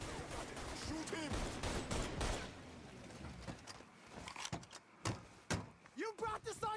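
Gunfire in the Mafia 3 video game, rapid bursts at first thickly overlapped with shouted voices, then thinning into sharp separate shots and thuds toward the end.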